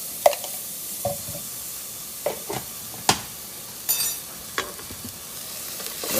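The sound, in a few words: onions and garlic frying in a pan for Zuppa Toscana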